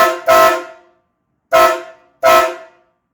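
Horns on a 1982 Ford F100 truck blare in three loud, short honks, the first a quick double blast, each with a bright brassy tone and a brief ringing decay.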